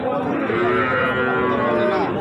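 A heifer calf of about five or six months moos in one long, loud, continuous call at a busy cattle market, close by with crowd murmur underneath.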